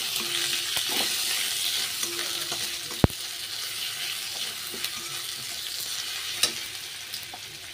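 Ginger and bay leaves frying in oil with onions in a pan, a steady close sizzle with a few soft stirring scrapes and one sharp knock partway through.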